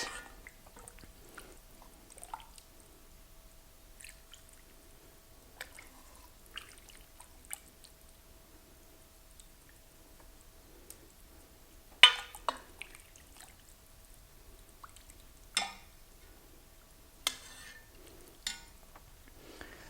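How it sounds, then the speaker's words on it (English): Cabbage and pork soup is ladled into a bowl: quiet, close liquid pours and small splashes with a few sharper clinks, sparse and soft, with no talking. "I'll try to just pour some soup the way it's meant to be done"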